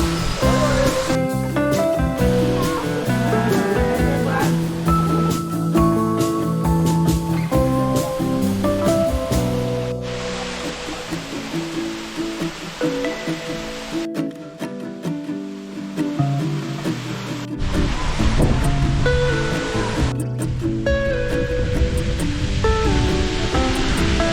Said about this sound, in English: This is a beautiful waterfall,